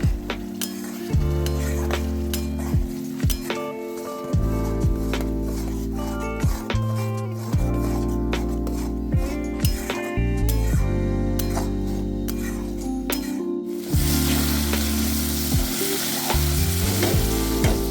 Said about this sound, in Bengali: এবার গ্যাস বাড়িয়ে কষিয়ে নিচ্ছি